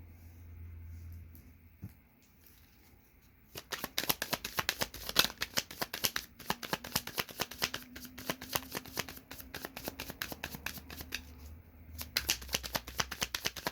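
A deck of tarot cards is shuffled in dense, rapid riffles and flicks, starting softly and then running almost continuously for about ten seconds, close and fairly quiet with no voices.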